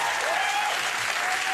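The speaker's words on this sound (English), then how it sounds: "Oh, look, and people applauded" Studio audience applauding on a late-night talk show, a dense steady wash of clapping that holds evenly throughout, with a faint tonal whistle or cheer riding briefly on top.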